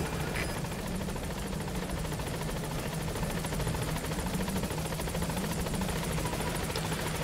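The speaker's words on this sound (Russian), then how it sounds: "Вот наш модный вертолет." Helicopter landing in Metal Gear Solid V: a steady, loud rotor drone with a low chopping thrum and a continuous high whine, sustained throughout without any talk.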